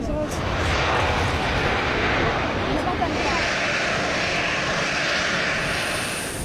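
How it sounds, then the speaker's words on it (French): An Air Madagascar airliner arrives at the airport, its engines a loud, broad, steady roar throughout, with no clear breaks. "l'appareil d'Air Madagascar fait son entrée de notre espace aérien"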